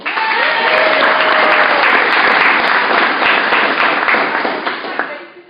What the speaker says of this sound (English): So I want you guys to clap it up for Cynthia.